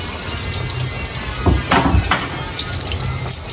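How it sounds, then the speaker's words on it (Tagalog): Water pouring from a tap for cooking pork adobo, a steady running stream with a few clattering kitchen knocks partway through, close and moderately loud. "Nilagyan natin ng konting tubig para lumambot-lambot."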